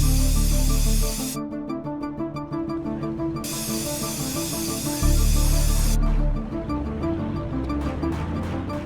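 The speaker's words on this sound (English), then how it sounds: "so now you can spray graffiti wherever you want" Hissing spray-can bursts mark graffiti being painted in GTA San Andreas, loud and in several long sprays over steady game music, with no voices.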